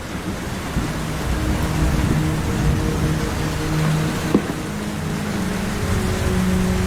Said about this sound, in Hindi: पिछले 7 दिनों से जंगल में बहुत तेज बारिश हो रही है।